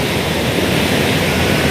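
The Rukmavati river in Kutch rushes past with high water, making a steady, loud, unbroken roar throughout. No one speaks.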